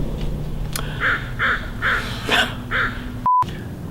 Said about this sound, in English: I'm hoping that I'm not going to have to fight with the crows in the background